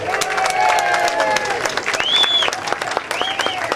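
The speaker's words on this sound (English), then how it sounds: "a loud round of applause, please, for the man of the hour, Mr. Dan Westfall" Loud, sustained applause from an audience greets Mr. Dan Westfall, the man of the hour, with a couple of rising whistles cutting through the dense clapping near the end.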